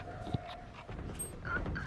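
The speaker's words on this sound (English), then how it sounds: "that's a dog." A dog creature in the game Fade gives short whimpering, yipping sounds, faint and brief over a busy, low game soundscape.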